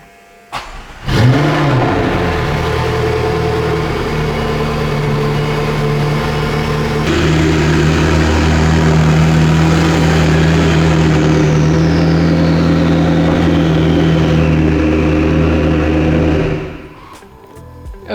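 A McLaren 12C starts from cold, a sharp catch and bark before its engine settles into a loud, steady high idle. The idle note steps up partway through, then the engine is shut off near the end.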